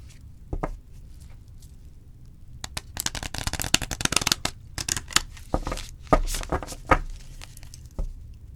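An oracle card deck riffled and shuffled in quick bursts of soft papery flutter and taps, close by, with brief pauses between shuffles.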